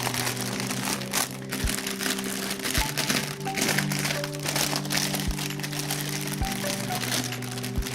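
Wrapping material crinkles continuously as it is folded around a Christmas gift hamper, close and loud, with irregular crackles and sharp taps over a steady low background hum; no one speaks.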